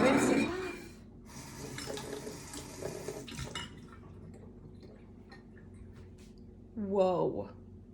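Running tap water rinses a rubber egg at a sink, a faint steady trickle under a person talking, with a brief louder splash near the end.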